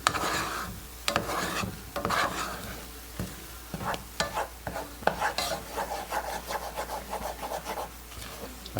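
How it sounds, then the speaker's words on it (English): A spoon stirs cranberry sauce mixed with baking soda in a pot on the stove. Quiet, irregular scraping and rubbing strokes repeat against the pot, over a faint sizzling simmer. "I'm going to mix that up real good."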